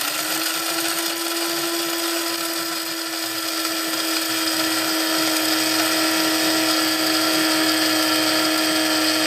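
An electric coffee grinder grinds beans for pour-over coffee, a loud, steady high-pitched whirring drone that runs unbroken from start to finish, close to the microphone with no talking.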